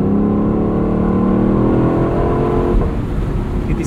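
The engine of a 2024 Lexus LC 500 Convertible revs hard and steady, rising in pitch, with a sharp exhaust crack near the end as it shifts gear.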